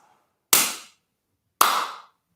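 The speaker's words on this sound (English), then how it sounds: "2 claps." Two sharp, loud hand claps about a second apart during a morning stretching routine, each with a quick decay and silence around them.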